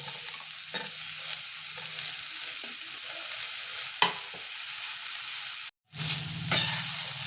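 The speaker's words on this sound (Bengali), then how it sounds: "আলুটা একটু ভাজা ভাজা করে নেবো আমি।" Potatoes fry in oil with garlic in a kadai, giving a steady close sizzle with a few scrapes from stirring and one brief dropout followed by a fresh burst of frying.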